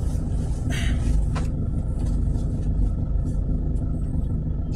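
Road traffic on Shaw Boulevard in Mandaluyong, Philippines: a constant low rumble of cars and buses rolling nearby, with brief hisses and a passing whoosh of vehicles over the steady engine drone.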